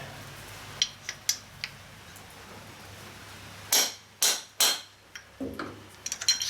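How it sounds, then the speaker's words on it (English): Hammer taps on a metal part for a materials-shredder cutting head, a few light clicks early, then three louder distinct knocks in quick succession, followed by softer small taps, close and clear with no talking. "that'll tap in nicely"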